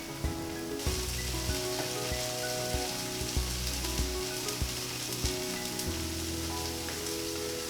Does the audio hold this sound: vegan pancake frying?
yes